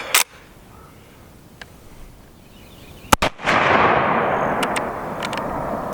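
A Steyr M95/34 rifle fires a single loud, sharp shot at close range, followed by a lingering rumbling echo that decays over the next few seconds; a few faint clicks come before the shot.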